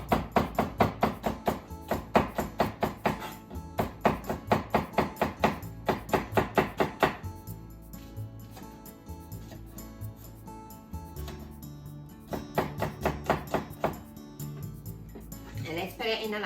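Rapid, rhythmic knife chops on a cutting board while slicing ginger for meatball and glass noodle soup, in several close bursts with pauses between them and a voice talking quietly.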